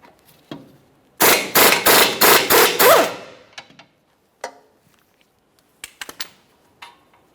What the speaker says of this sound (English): 19mm to remove the mounting nut.